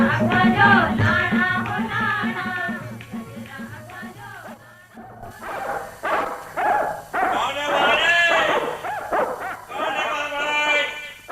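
Several fierce dogs bark and yip repeatedly at a roadside camp, loud and close, in bursts across the whole stretch with a brief lull in the middle, while a voice is partly heard among them.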